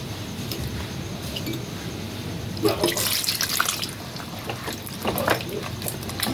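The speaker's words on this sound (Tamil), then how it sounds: "தேவைக்கு தேவையான அளவு தண்ணி சேர்த்துக்கலாம்." Water pours and splashes into a pot of fish gravy, a steady running gush with bubbling and sloshing that briefly grows louder.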